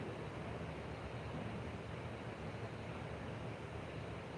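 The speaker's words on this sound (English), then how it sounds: "You can probably hear the spillway behind me." Water pours over a river spillway on the lower Black River at Piedmont, Missouri, making an even, broad rushing roar heard from nearby, unbroken and without speech.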